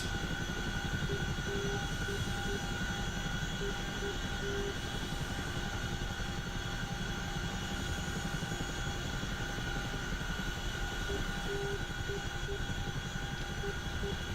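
A helicopter landing on a pad in the DCS flight simulator, heard as a steady, dense engine and rotor drone with a constant whine, unbroken throughout.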